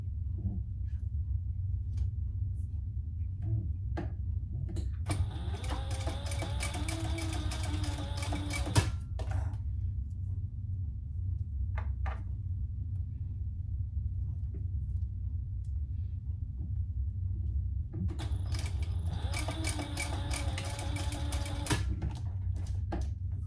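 A sewing machine bastes the fabric ends of a mini crossbody bag closed near its D-rings. Two bursts of rapid, even stitching rattle over a steady low room hum, with quiet handling in between.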